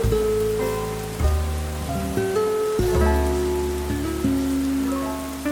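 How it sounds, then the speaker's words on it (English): Steady rain falls in a cartoon scene, a continuous patter under layered musical tones that shift every second or so, with no voices. "Peppa and George are sitting and watching the rain fall from the window."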